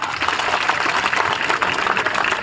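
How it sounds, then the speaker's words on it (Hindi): A crowd at an outdoor political rally in support of Krishan Pal Gurjar breaks into steady applause, a dense wash of clapping that stays even and fairly loud throughout. "एक बार जोरदार तालियां"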